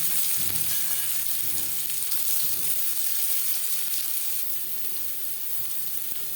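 Chopped onion fries in hot oil in a wok, giving a steady, fairly quiet sizzle with a few soft stirring knocks near the start, with no voices.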